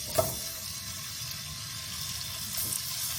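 Olive oil heating and sizzling softly in a pan on a kitchen stove, a steady faint crackle with a brief clatter near the start, no voices.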